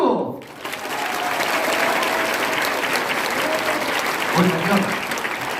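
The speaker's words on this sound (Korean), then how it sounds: "여러분 박수 준비해야 돼요." A church congregation breaks into strong, steady applause that keeps going for several seconds, with voices calling out under the clapping, during a Friday worship service.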